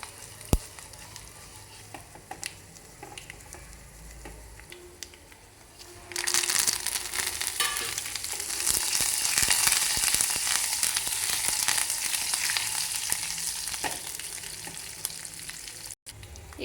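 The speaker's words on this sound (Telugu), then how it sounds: "ఇప్పుడు వెల్లుల్లిపాయలు, జీలకర్ర, ఆవాలు, ఎండుమిర్చి ఒకేసారి వేసేసుకోవచ్చు." Garlic, cumin, mustard seeds and dry red chillies hit hot ghee for a tempering, bursting into loud, continuous sizzling and crackling that swells and holds steady after a few quiet stirring taps.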